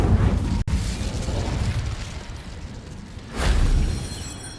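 A fire spell cast in Hogwarts Legacy bursts out with a sharp crack, then a roaring, whooshing swell that fades and flares up again near the end, loud and close with no voices.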